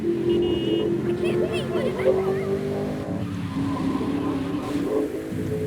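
A car's engine hums steadily as it drives through the streets of GTA Vice City, a continuous mid-level motor drone that runs under someone talking throughout.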